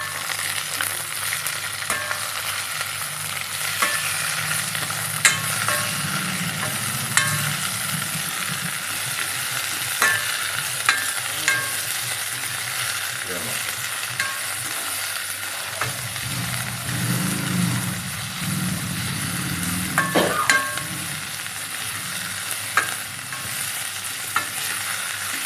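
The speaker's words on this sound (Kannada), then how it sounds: "ಒಂದು ಸ್ವಲ್ಪ ಮೆಣಸು, ಇದನ್ನ ಎಲ್ಲ ಫ್ರೈ ಮಾಡ್ಕೊಳ್ಳೋಣ" Mutton chops frying with pepper, cloves and other spices while being stirred, a steady moderate sizzle with intermittent scraping strokes and occasional clinks against the pan over a long stretch, no voices.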